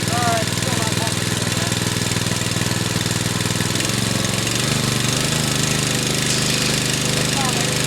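A small engine on a 2-inch highbanker dredge pump runs steadily and loudly throughout, a continuous close mechanical drone with a slight shift in tone midway.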